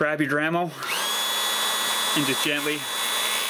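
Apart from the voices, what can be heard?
Dremel rotary tool grinding a VW key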